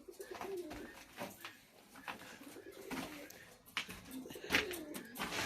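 Fantail pigeons softly cooing on their nest over two eggs, faint low coos repeating under light background noise.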